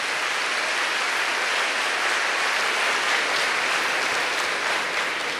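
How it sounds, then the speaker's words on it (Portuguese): Dense, steady applause from a church congregation during a Mass, many hands clapping at once in an even, continuous roar at close range, with no talking over it. "Então aplauda você"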